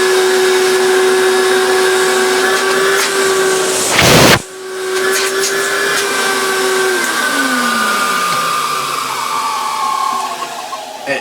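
Goblin Rio 1000 vacuum cleaner with a clogged filter running loud and close, a steady whining motor hum broken by a brief blast of hiss midway, then the tone drops and winds down.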